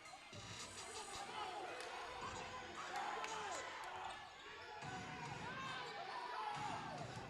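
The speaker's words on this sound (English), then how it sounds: "And this crowd getting excited here." Arena crowd at a Pittsburgh Steel City YellowJackets vs Cleveland Blazers basketball game cheering and rising in excitement, with sneaker squeaks and ball bounces underneath and a commentator talking over the steady, loud roar.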